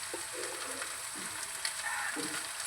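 Cooked rice stirred and fried in a pan with a quiet, continuous sizzle, broken by soft scraping strokes of the spoon at irregular intervals.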